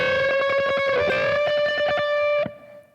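Electric guitar with effects playing a gospel lick in rapid tremolo picking, a single note repeated quickly and evenly for about two and a half seconds before ringing off, played alone with no talking.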